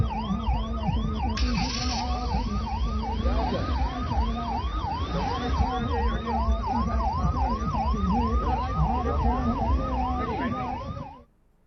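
Several ambulances being flagged off at an official event in Chhattisgarh, sounding their sirens together in overlapping wailing sweeps that rise and fall steadily and loudly for about eleven seconds before cutting off abruptly.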